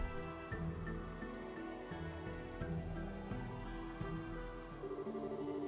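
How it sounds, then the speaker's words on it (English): Rain falls in the video game Trails in the Sky the 3rd, a steady patter beneath sustained music, even and unbroken throughout. "You didn't have to come out here in the rain."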